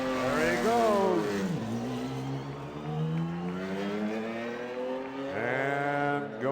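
Scott Brayton's number 32 race car starts a qualifying run, its engine revving with sweeping pitch changes as it accelerates and shifts, loud and near, with an announcer talking over it.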